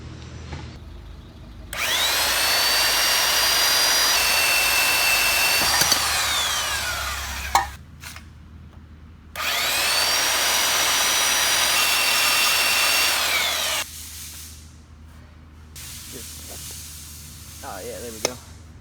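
A power tool cuts through a vintage mini bike frame in two long, loud bursts of steady high-pitched whine, each lasting several seconds, separated by a short pause and followed by quieter handling noises.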